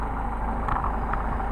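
An engine idles steadily and evenly after a Solex carburetor adjustment, a close, continuous low hum with no talking.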